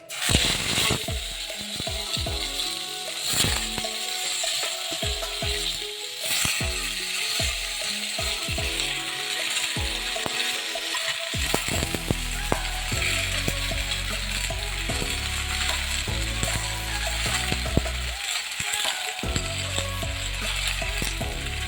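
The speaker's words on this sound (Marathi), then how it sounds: "रताळ्याचे काप घातल्यानंतर याला तुपामध्ये एक मिनिट मिनिटभर आपण परतवून घ्यायचं आहे" Sweet potato slices frying in ghee in a pan, with a steady sizzle broken by repeated scraping and stirring clatter, and louder frying in the second half.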